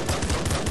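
Grenade launcher fire in the top-down shooter Nuclear Throne, a dense burst of rapid booming shots and blasts packed together over a short, loud stretch.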